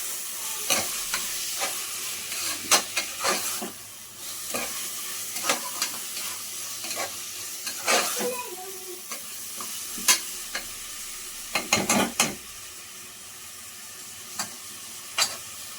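Tomato with salt and turmeric powder frying in a pan for a crab masala. A steady sizzle runs under repeated scraping and knocking strokes of a spoon stirring the mix, close by, with no talk.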